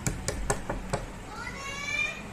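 Several sharp knocks on a door, about five irregular raps in the first second, followed by quieter room sound with faint higher tones.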